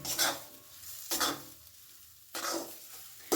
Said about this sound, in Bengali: এই মটরশুঁটির পেস্টটাকে খুব ভালো করে নেড়ে নেড়ে একটু শুকিয়ে নিতে হবে